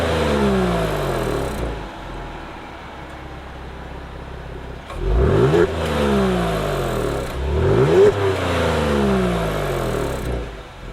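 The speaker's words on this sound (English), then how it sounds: "There's a valve in the exhaust that makes the exhaust just a little bit louder" A 2021 Genesis G70's engine revs up repeatedly through its valved exhaust with a throaty rasp, rising and falling in pitch, loud and close, with no speech.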